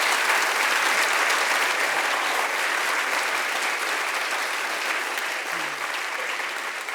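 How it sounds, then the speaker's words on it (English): Sustained audience applause at a political discussion event, a dense, even wash of clapping from a large crowd lasting about seven seconds without a break. "Give them a round of applause, ladies and gentlemen."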